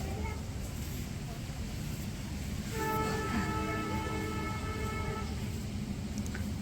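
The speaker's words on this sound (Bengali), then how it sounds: "ও ট্রেন যাইতেছে দেখছো" A train passes outside a village home in the rain, its rumble rising and a horn-like tonal blare sounding from mid-clip, heard behind ongoing background noise.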